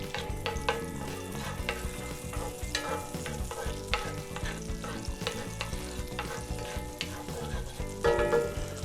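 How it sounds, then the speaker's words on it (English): Butter melts and sizzles in a pan on the stove, a steady close crackle with frequent sharp pops and light clinks of stirring throughout. "I get this butter melting down a little bit here"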